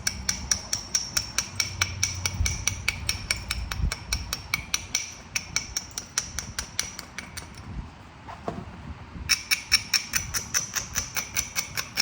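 Flintknapping a rock into an arrowhead produces a long series of sharp, regular stone taps and clicks, close and crisp, with a short pause midway before the steady tapping resumes.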